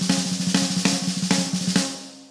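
Ghost notes played on a Sensitone snare drum for a groove, a steady run of soft, quick strokes punctuated by a few louder accents, close and alone with no talking.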